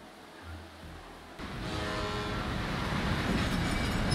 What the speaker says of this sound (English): I like that the train has a good, solid, bassy horn.